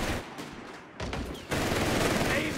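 MG-42 machine gun fire in the Company of Heroes 3 video game, dense rapid bursts under battlefield din that swell loudly after a brief lull, with a voice heard briefly.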